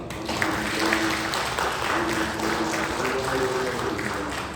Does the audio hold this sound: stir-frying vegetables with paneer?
no